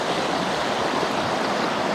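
A waterfall pouring over rocks into a big hole above shallow water, a loud, steady broadband roar with no pauses and no voices.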